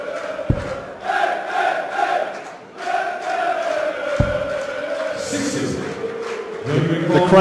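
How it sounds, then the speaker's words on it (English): A darts crowd at a German tournament roars and chants in sustained, swelling unison, loud and near, with a couple of sharp thumps and a commentator speaking over it. "The crowd finding their voices"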